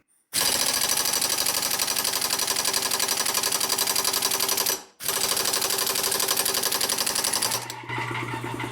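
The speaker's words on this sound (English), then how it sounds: "My compressor's on, isn't it?" An air compressor runs steadily, building up air pressure in a workshop, a loud continuous rattling motor drone that briefly cuts out near the middle before restarting, then shifts to a lower hum near the end.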